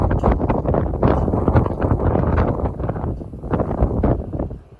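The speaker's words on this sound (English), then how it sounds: "So there the wind blows and there the dirt goes." Strong wind gusting outdoors beside a barn, a steady rough roar of buffeting with rising and falling surges, loud and close on the microphone.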